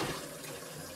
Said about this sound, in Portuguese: a gente vai ver essa torneirinha aqui soltando água,